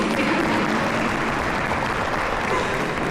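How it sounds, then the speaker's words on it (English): An audience applauds at a community event, a dense, steady wash of clapping from many hands that holds at an even loudness throughout, with no voices on top. "You clap now"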